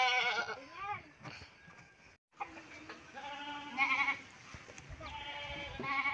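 A goat bleats repeatedly, loud and close, as it is led out to a grassy grazing spot, with wavering cries spread across the scene and a brief silent gap between them.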